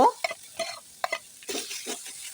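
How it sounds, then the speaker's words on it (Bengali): Fish pieces for homemade fish fingers are mixed with spices by hand, producing close, irregular wet squishing and stirring bursts separated by brief quiet gaps. "এরপর আবার আমি মাছের সঙ্গে মশলাগুলোকে ভালোভাবে করে নেড়েচেড়ে মিশিয়ে নিব"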